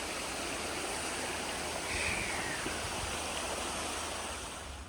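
Water rushes steadily over a beaver dam beside an Appalachian Trail route, a dense, continuous outdoor flow heard close and alone.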